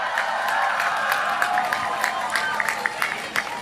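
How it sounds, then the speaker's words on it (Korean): Crowd at an outdoor political campaign rally in Pohang, South Korea, applauding and cheering, a dense steady wash of clapping with scattered louder claps and shouts throughout. "큰 박수와 함성 부탁드리겠습니다."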